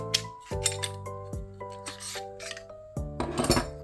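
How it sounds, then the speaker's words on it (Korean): A WE AW VX71 Glock-style gas gun has its slide and barrel taken apart, giving close metallic scrapes, clicks and ringing clinks of parts sliding and separating in a quiet room, with no voices. "한번 슬라이드를 분해를 하고 총열 분해도 하고"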